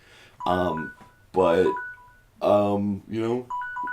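Short, steady electronic telephone beeps sound between bursts of voiced talk and singsong voices, each tone clear and mid-loud in a close indoor room.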